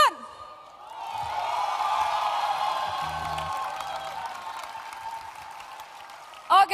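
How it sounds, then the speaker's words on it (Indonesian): Audience applause with some cheering at an awards presentation event, a sustained wash of clapping that swells and then gradually fades over several seconds, fairly loud and filling the room. "Coba kita tepuk tangan dulu buat Sun."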